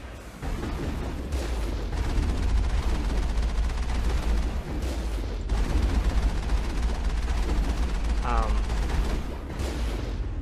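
Dense gunfire in the Mass Effect video game during a firefight with the Mako vehicle, a continuous loud rattle of shots layered over a heavy low rumble, with no pauses.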